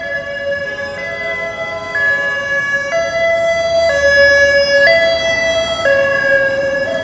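A Mount Sinai ambulance passes on a New York City street, its siren wailing in steady alternating two-tone steps, loud and close throughout with road rumble beneath and no speech.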